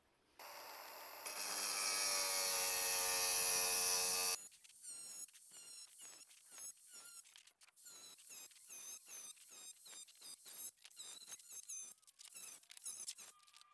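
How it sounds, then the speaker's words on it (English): A diamond hand pad rubs along the edge of a cut tile, a brief steady abrasive hiss followed by a run of short squeaky scraping strokes in an uneven rhythm, close and fairly quiet. "is using a diamond hand pad and basically just going right along that edge and smoothing that out"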